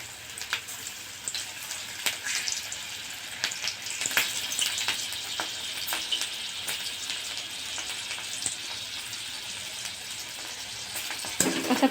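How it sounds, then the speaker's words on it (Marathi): Banana flower pakoras deep-fry in hot oil, giving a dense, continuous crackling sizzle with scattered sharp pops for twelve seconds, close and fairly loud, swelling slightly near the end as more batter is added. "आता आपण सगळे भजे हे याच्यामध्ये फ्राय करून घेऊया."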